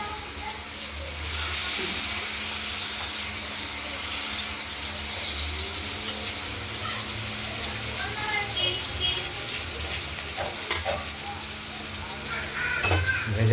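Salted, turmeric-rubbed katla fish pieces frying in oil in a wok, a steady close sizzle with occasional pops and crackles building toward the end.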